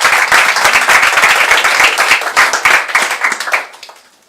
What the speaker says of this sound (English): Yeah, you can make a round of applause.